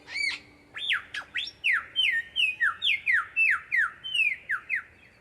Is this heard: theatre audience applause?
no